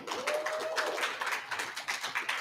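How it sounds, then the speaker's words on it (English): An audience at a media summit claps together in dense, continuous applause, fairly close, with a brief whistle rising above it. "let's give them a round of applause one more time"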